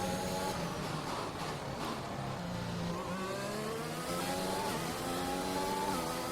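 F1 race car engine from F1 2021 at the Australian Grand Prix, carrying a gearing issue: a steady, loud, high-pitched whine that rises and falls through gear changes, continuous and close, with no talking.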